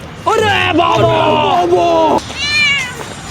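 A sick pet cat meowing loudly and close by, one long drawn-out wail followed by a shorter second meow after a brief pause.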